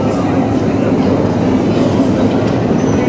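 Metro train running underground, a loud, steady rumble with rhythmic wheel clatter heard from inside the moving subway car.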